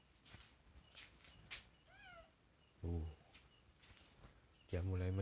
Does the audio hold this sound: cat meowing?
yes